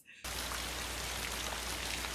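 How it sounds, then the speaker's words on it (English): Heavy rain from a 1960 film scene at a lonely motel, a dense, steady downpour that starts abruptly after a brief quiet moment and keeps roaring evenly without a break. "I didn't hear you in all this rain"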